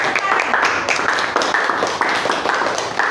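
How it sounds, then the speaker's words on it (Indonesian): A classroom gives a round of applause for group 1 after a presentation: several seconds of scattered hand clapping from many students, fairly close and lively, with voices mixed in. "Beri aplaus dulu untuk kelompok 1."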